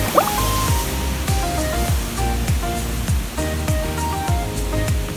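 The Botal Dhara waterfall in Mainpur sends water crashing down from above in a steady, dense roar that stays loud and continuous throughout.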